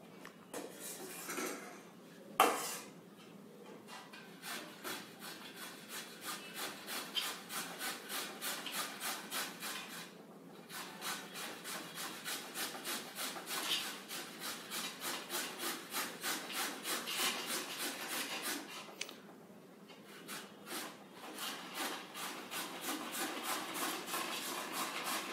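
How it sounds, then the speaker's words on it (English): An ingredient is rubbed across a hand grater in quick repeated scraping strokes, a close, rhythmic rasp that continues with brief pauses and no voices. "And then grate it."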